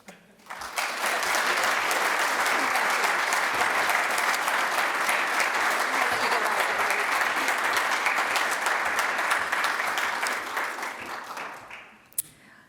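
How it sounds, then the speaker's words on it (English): Sustained audience applause at a college foundation achievement awards ceremony, a dense wash of many hands clapping steadily for about eleven seconds before tapering off, with no talking over it. "Let's give them one more round of applause."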